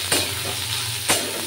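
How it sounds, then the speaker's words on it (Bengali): Potatoes and eggplant sizzle in a frying pan while being stirred, a continuous close hiss with two short scraping strokes of the spoon. "এখানে আলু আর বেগুনটা সুন্দর নাড়া হচ্ছে"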